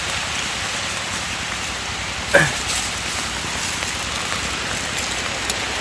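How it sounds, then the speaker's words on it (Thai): Rain falls on a forest during wild-food foraging, a steady broadband hiss of drops on leaves and surfaces with one brief louder knock partway through. "ฝนตกไล่หนีมาเถียงก่อนครับ"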